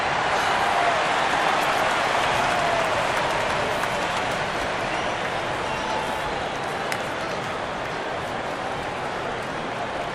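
Steady broadband applause and crowd noise fill a virtual NBA 2K25 basketball arena as a player stands at center court with a mic, sustained and loud throughout with no talk.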